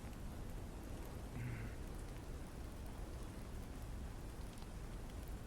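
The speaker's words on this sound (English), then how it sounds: "it sounds like a major storm's coming in." Heavy rain from a major storm falls in a steady, dense hiss with no pauses. A faint low rumble is audible underneath.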